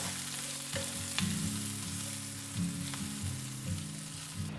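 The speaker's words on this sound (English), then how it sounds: "Onions, garlic, and ginger. Saute for 2 to 3 minutes." Onions, garlic and ginger sautéing in chili oil give a continuous close sizzle, with occasional stirring scrapes and taps against the pan under a humming background.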